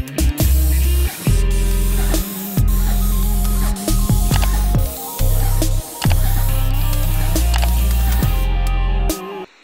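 A paint sprayer applies grey stain to a wooden deck in loud, steady hissing bursts, each lasting about a second, separated by short pauses as the trigger is released and pulled again.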